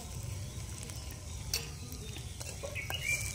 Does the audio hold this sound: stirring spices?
yes